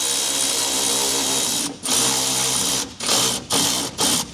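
A power driver whirs loudly while tightening a hose clamp on the 3-inch 90-degree silicone joiner of a stainless-steel 4WD snorkel, running steadily and then pulsing in several short stop-start bursts.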